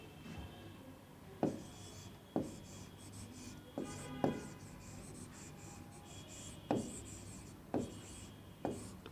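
Writing on a classroom board: a steady scratching stroke broken by repeated sharp taps at irregular intervals, fairly close, with no talk over it.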